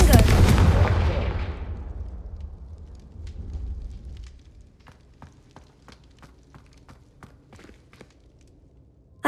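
Blasting-spell explosions in the Hogwarts Legacy video game: a loud burst that rumbles and decays over several seconds, followed by a quiet stretch of scattered sharp clicks and taps, ending with a sudden thud.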